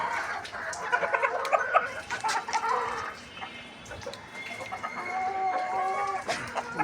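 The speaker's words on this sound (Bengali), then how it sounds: "সবথেকে বড় মোরগ" Chickens, including a large rooster, cluck and call nearby on a farm in short, scattered bursts, with a brief pause midway before more clucking resumes.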